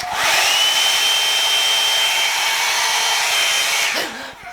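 A hair dryer runs loud and steady while hair is brushed and blow-dried with a small brush, the motor whine holding level for about four seconds before dropping off near the end, with no talking.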